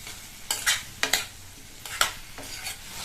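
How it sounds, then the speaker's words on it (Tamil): Boiled baby potatoes being sautéed in masala over a high flame: about five separate bursts of spatula stirring and scraping over a soft sizzle, close and fairly loud, no speech. "இந்த மசாலாலையே இந்த உருளைக்கிழங்க நல்லா வதக்கி விட்டுக்கணும்"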